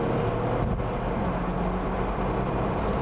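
A 400bhp Audi A5 accelerates hard under full throttle, its engine a steady, loud, continuous roar that holds without a break for the whole stretch.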